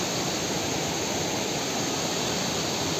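A waterfall in dense forest at Jim Corbett roars as a continuous, loud wash of rushing water, steady and unbroken throughout, with no voices.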